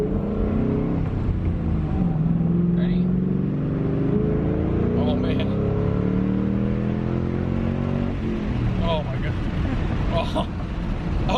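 A Mustang GT/CS fitted with Borla ATAK mufflers accelerates through the gears, its engine note rising in pitch with each pull from inside the car, with wind noise and some voices over it.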